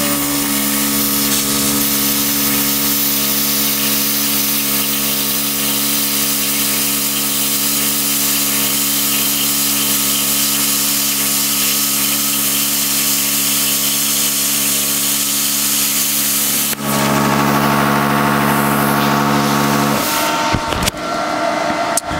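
A Hobart Airforce 12ci plasma cutter slices through metal with a steady, loud, continuous hiss and hum lasting most of the clip, then cuts off abruptly near the end, leaving brief clatter.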